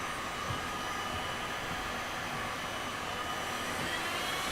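A small handheld vacuum and blower tool runs in a steady, even airy whoosh, constant and fairly faint throughout with no voices.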